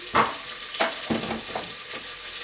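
Turmeric stirred into hot oil for sambhar in a home kitchen gives a steady close sizzle and fry, with a few scraping stir strokes spread across it and no talking.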